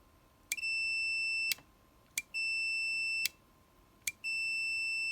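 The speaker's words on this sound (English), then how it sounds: "So if I push this button, it should beep." Kia Sorento alarm beeping after a hidden unlock button is pressed: four steady high electronic beeps of about a second each, evenly spaced, clear and alone with no talk.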